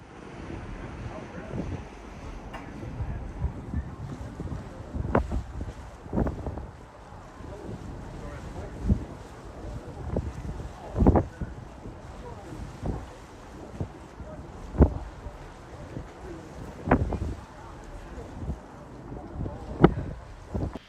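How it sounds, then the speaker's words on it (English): A large cruise ship sails out past New York City, with steady wind rumble and water wash under it. Occasional louder thumps and gusts rise through the long stretch, and faint voices sound far off. "A little cruise ship ASMR for you as we pass the Oculus."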